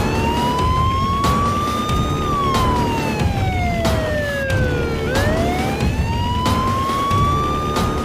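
An emergency siren wails loudly and continuously, its pitch sweeping slowly up and down in long rising and falling cycles, as if heard over a phone call.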